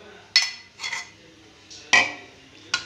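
A spoon clinks and scrapes against a bowl in four light, spaced strokes while chopped onion, spices and yogurt are gently mixed together for minced meat.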